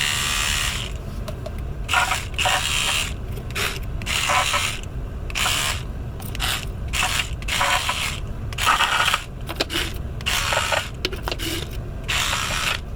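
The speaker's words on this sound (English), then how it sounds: "the first one should be pretty obvious, my electric toothbrush" An electric toothbrush spatters colour into a chocolate bonbon mold, a loud close buzzing rattle in repeated short bursts with brief pauses between them.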